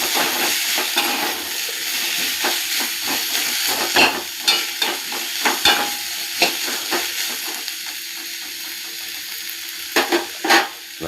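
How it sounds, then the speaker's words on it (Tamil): A spoon scrapes and stirs a sizzling guava chutney mixture in a hot pan. Irregular clatters sound over a constant frying hiss, up close. "நன்றாக கிளறி விடவும்."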